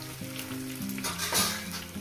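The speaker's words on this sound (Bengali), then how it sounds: "আর এই সাইডে আমি মাছটাকে ভেজে নেব এইভাবে" Fish fries on one side of a pan while onion cooks on the other, giving a close, steady sizzle with a brief stirring flare, and music playing under it.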